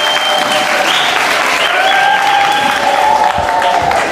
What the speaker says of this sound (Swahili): Makofi kwa kijana msafi.